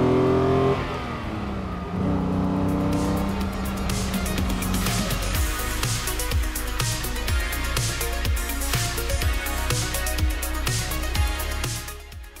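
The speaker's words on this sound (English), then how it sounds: "There's a whine, a rumble, and then at high RPM, that snarl." A Mercedes sports car engine, close and loud, whines and rumbles at low revs, then climbs through repeated gear shifts into a rising high-RPM snarl, with no talk over it.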